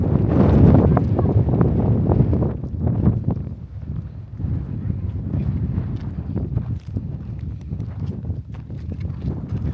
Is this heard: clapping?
no